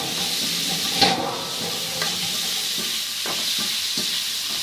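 Tomatoes tipped into a hot frying pan for adobong kangkong, setting off a steady, close sizzle with a few soft knocks and scrapes of stirring.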